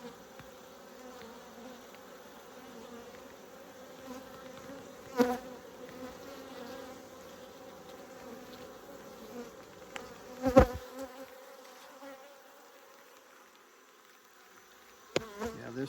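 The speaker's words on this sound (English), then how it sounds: "this thing's full of bees." Honey bees swarm and buzz around an open hive during a pest check, a steady dense hum with a few sharp handling knocks and clicks close by.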